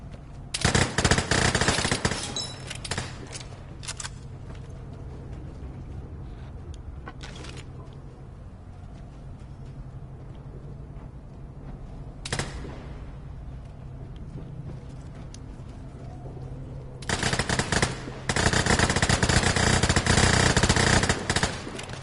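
Rapid bursts of video game gunfire from players shooting each other in an online match on PS5 or Xbox Series, with loud automatic volleys at the start and end and sparser single shots in between.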